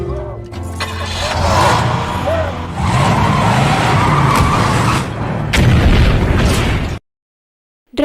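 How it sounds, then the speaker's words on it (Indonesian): A very large explosion in an action film bursts out as a loud, sustained boom and roar amid car and skidding noises, with a second blast-like surge near the end before a sudden cut to silence. "terbangun karena suara ledakan yang sangat besar"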